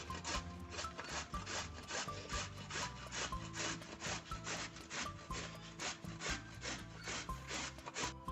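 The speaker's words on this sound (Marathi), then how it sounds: "मी आता गाजर किसून घेते" Carrots for halwa are grated by hand in quick, even rasping strokes, about two per second, each a close, loud scraping rub repeated without pause. No voices.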